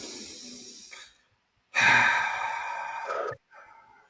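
One slow, deep breath taken close to the microphone: a long inhale, a brief pause, then a long, audible exhale, followed by a quieter trailing breath, with no talking.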